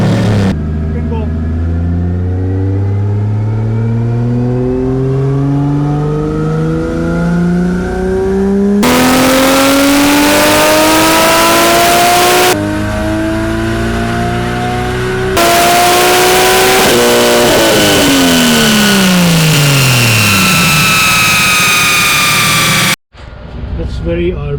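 A Nissan Skyline R33 with an RB engine revs hard on a dyno, rising through the gears in long, loud sweeping pulls with abrupt cutoffs and shifts, ending in a sudden drop.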